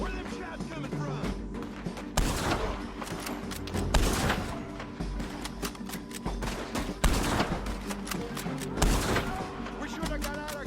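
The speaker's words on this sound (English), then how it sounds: "Where are them shots coming from?" Repeated gunfire in Red Dead Redemption 2, dense cracking shots and bursts that come in waves across the whole stretch, loud and close, mixed with voices talking in the game.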